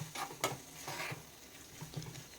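Tomato gojju with coriander frying in a pan, heard as a close, gentle sizzle with a few light scrapes and clinks of stirring, quiet and steady throughout with no talk.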